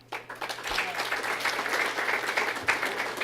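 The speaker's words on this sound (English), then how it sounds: "Not as much applause on that one" An audience at a Chicago mayoral campaign speech breaks into applause, a dense, moderately loud patter of clapping that swells and holds for a few seconds.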